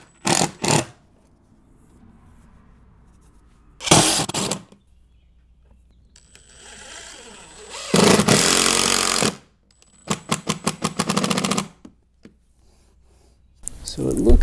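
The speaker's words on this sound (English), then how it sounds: "Now let's go ahead and put the screws in temporarily." Power drill driving screws into a custom oak threshold, several loud whirring bursts of varying length separated by pauses, the later ones with a rapid clattering pulse as each screw seats.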